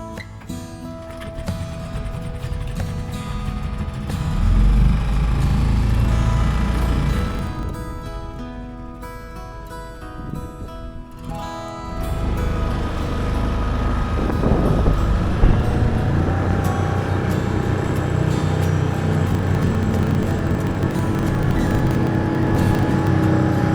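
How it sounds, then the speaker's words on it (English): A 6 horsepower Mercury outboard motor drives a dinghy with a steady, close droning hum, holding a constant pitch apart from a brief dip, while wind rushes over the microphone and no one speaks. "I ended up sourcing a 6 horsepower Mercury outboard off the shelf locally."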